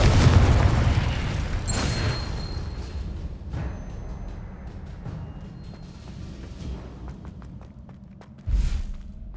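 In Hogwarts Legacy the Confringo spell goes off as a heavy booming blast that rumbles and fades over several seconds, with a second low thump near the end and faint footsteps between.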